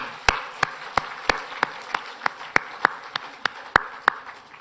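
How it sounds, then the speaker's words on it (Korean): Slow, evenly spaced single claps during a church service honoring elders on Parents' Sunday, about a dozen sharp hits over a low, hollow room murmur, with no voices over them. "우리 어르신들에게 박수 한번 하겠습니다."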